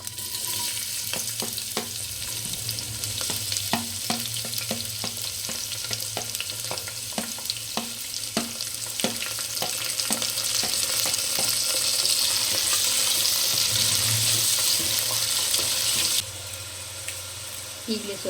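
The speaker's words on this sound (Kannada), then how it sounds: "ಈರುಳ್ಳಿ ಚೆನ್ನಾಗಿ ಫ್ರೈ ಆಗುತ್ತೆ, ಬೇಗ ಆಗುತ್ತೆ." Onions frying in a pan for a millet menthya bath, a dense continuous sizzle with scattered crackles and stirring clicks, close up, a faint voice now and then underneath.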